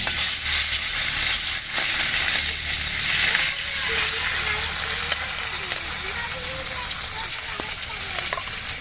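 Tilapia, foloi and small bain fish fry in hot oil in a wok outdoors, a steady loud sizzle with crackling bursts running throughout and a faint voice in the background.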